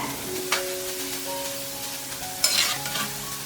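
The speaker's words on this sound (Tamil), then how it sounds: "லைட்டாக அந்த ஆயிலோட சலசலப்பு அடங்கும் போது திருப்பி விட்டுக்கலாம் இப்போ மெதுவாக நான் வந்து திருப்பி விட்டுக்கிறேன்" Murukku frying in hot oil while being turned over, with a steady close sizzle broken by two sharper scraping stirs, one early and a louder one near the end.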